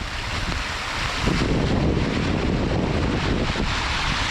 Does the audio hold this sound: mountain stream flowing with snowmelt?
yes